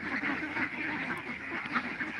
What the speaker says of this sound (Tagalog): Kay tatay na itik yan.